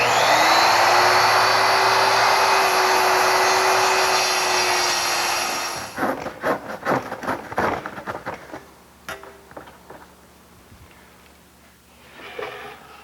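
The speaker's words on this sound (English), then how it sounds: "I'm going to use my circular saw to cut that piece out" Circular saw ripping plywood guided by a straight-edge clamp: a loud, steady high whine runs for about six seconds, then the blade spins down into scattered knocks and clatter of the cut-off piece and handling.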